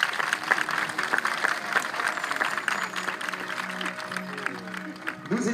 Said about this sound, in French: un tonnerre d'applaudissements pour la jolie Parelle et le grand Cessol.